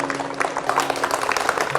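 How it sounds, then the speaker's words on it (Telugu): Steady clapping from an audience at a village festival before an orchestra performance, brief and continuous, with a faint voice or hum underneath. "అందరూ చప్పట్లు కొట్టండి."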